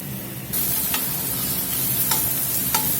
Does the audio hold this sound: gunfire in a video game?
no